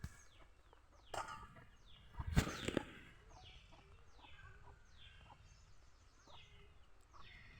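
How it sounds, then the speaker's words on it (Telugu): A chicken clucks in short, repeated bursts with a sharp louder squawk and some wing flapping, fairly near, against a quiet outdoor background. "కోడి ఒకటి బాగా సౌండ్ చేస్తూ వస్తుంది"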